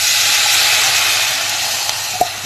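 Water poured into a hot frying pan for a Kochi-style fish dish sets off a loud, steady broadband sizzle and steam hiss that fades slightly over a couple of seconds, with a small clink near the end.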